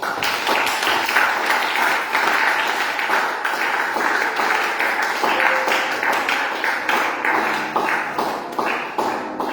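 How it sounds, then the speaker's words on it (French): A church congregation claps loudly in a dense, continuous burst, with a few sharp taps and a short tone standing out through the crowd noise. "Acclame encore"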